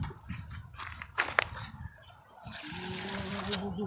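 Water is poured onto a newly planted tomato plant in a homestead garden, a close, rushing splash and trickle that swells and ebbs for a few seconds, with faint birds chirping in the background.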